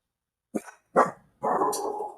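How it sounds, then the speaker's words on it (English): A dog barks excitedly nearby, two short sharp barks followed by a longer rough, drawn-out bark-growl, moderately loud with no talk. "as my dog goes crazy at something"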